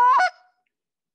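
A short reed goose call is blown once, producing a single loud, abrupt honking hooick used in field goose hunting, followed by silence.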